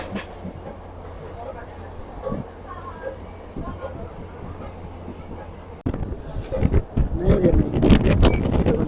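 A train rolling and turning through the Gorumara jungle between Siliguri and Lataguri, its low rumble and rattling carriages heard close with wind buffeting, growing louder near the end while someone talks.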